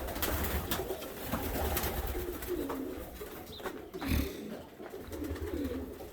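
Pigeons or doves cooing on a farm among special birds kept in pens, a steady low cooing chorus with scattered calls, fairly close and continuous.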